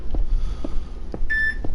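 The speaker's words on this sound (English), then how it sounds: "That was my phone, that beep." A short electronic beep from a phone notification rings out once near the end, close and clear over faint room noise with a few soft knocks.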